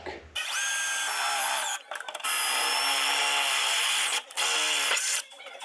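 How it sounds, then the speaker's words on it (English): A power drill whirs loudly and close up in three long bursts, drilling into a carbon fibre mould. Its pitch wavers slightly as it bites in, with short pauses between bursts. "then we are going to drill down to make our mark"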